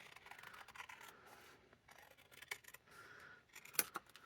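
Scissors snip through cardstock during a craft session, soft scratchy cuts and rustling paper close by, quiet overall with a sharper click near the end and no talking.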